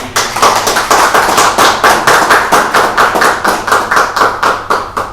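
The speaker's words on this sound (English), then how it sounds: "Another round of applause for our Tuan Iman." Applause from a presentation audience fills the room, dense continuous clapping with a steady pulsing rhythm, loud and close, no talk over it.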